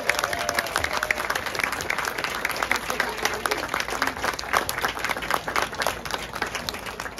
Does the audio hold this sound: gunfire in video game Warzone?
no